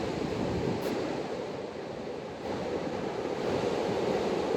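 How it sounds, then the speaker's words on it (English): Ocean surf rolls steadily onto a wide, open beach in Mexico, a continuous loud wash of breaking waves with some wind rumble and no voices. "while Junior is having a great time playing in the surf, this beach is just wide open goodness"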